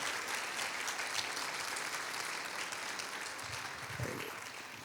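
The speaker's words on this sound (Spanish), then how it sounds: "Denle ese fuerte aplauso." An audience at a church gathering claps in sustained, dense applause, steady and fairly distant, continuing for several seconds with a faint voice briefly audible near the end.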